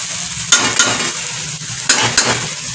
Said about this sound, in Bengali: সেই ডিম দিয়ে চিচিঙ্গে ছিল চিচিঙ্গে দিয়ে আলু দিয়ে ভাজা হচ্ছে